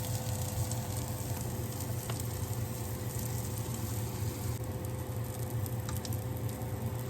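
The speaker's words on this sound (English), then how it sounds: "Just a little bit of olive oil on the stove top and on the grill." Steady sizzling of salmon croquettes frying in olive oil on a stovetop grill, a continuous crackling hiss with faint pops, close and fairly quiet.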